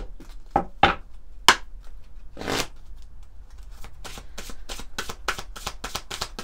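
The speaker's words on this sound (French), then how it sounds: "On va prendre une ou deux cartes de l'oracle Mission de vie." Oracle cards are shuffled by hand in a quiet room, giving a close run of crisp riffling bursts that start sparse and become a steady, rapid flutter of card slaps toward the end.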